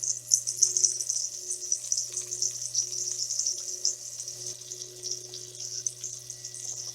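A soft, steady sizzle of pancake batter frying in a hot skillet, with a constant low hum beneath and a faint repeating tone.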